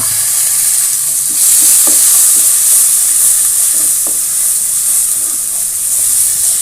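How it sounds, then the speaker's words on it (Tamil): Onions sautéing with fennel powder in a pan for a drumstick stir-fry, a loud steady hiss of frying oil with soft intermittent stirring taps underneath. "வெங்காயத்தை போட்டு நல்லா வதக்கிங்க"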